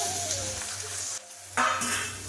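Pre-fried pieces of amudi and loite sea fish drop into a pan of spicy curry, setting off a steady sizzle that briefly dips, then flares louder and brighter as more fish goes in.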